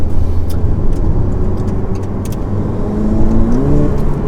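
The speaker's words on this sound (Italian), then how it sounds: "Sentiamo subito la risposta del motore, molto fluido" A Ferrari F8 Tributo V8 engine idles and then revs nearby, a deep rumble rising in pitch toward the end with some light clicks in the background.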